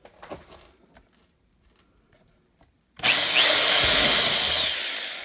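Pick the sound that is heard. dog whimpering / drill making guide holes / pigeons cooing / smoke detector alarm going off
drill making guide holes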